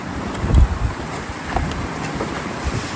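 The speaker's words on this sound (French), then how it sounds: "Oh, le vent." Outdoor wind gusts buffet the microphone in a loud, rumbling roar, with a stronger burst near the start, and no voices are heard.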